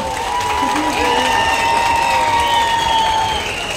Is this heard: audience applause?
yes